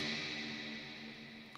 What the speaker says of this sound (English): Ooh, that's a nice reverb.